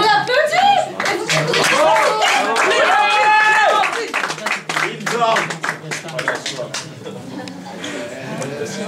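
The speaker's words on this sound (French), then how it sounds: "On applaudit." An audience at an open-stage "Stand Out" performance night applauds and claps to welcome a singer, the clapping mixed with music and voices throughout, fairly loud and dense.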